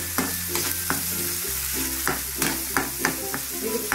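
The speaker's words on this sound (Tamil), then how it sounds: "இந்த மாதிரி இந்த நல்லா வதங்க பண்ணுவோம்." Tomatoes and onions sauté in a hot pan for a potato stir-fry: a continuous sizzle with frequent rhythmic scraping and clacking of a spatula stirring close up.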